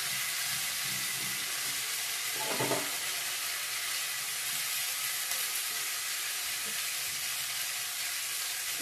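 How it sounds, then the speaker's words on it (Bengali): Spices and river fish sizzle and fry in a pan, a loud, steady crackling hiss with a brief stir or clatter early on. "একটু ভাজা ভাজা করে নিই"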